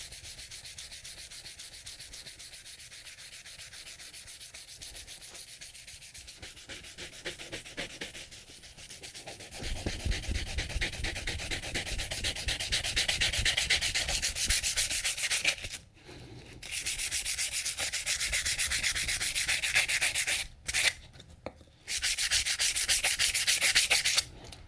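Sandpaper rubs patina off the blade of a Moritaka gyuto knife in steady, rhythmic back-and-forth strokes. The close, raspy scraping grows brighter midway and stops briefly twice.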